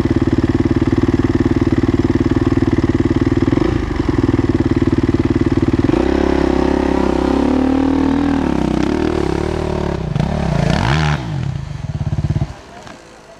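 Kawasaki KX450F dirt bike engine idling loudly up close with a rough, throbbing beat, then revving and pulling away with rising pitch before the sound drops off at the end, with people talking over it.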